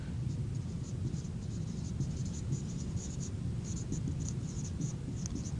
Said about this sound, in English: So I'll write that on the board.